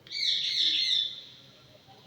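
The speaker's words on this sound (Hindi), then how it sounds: "तोते की आवाज़ आ रही होगी बैकग्राउंड में," A shrill, sustained parrot call rings out for about a second, then fades, somewhere in the background.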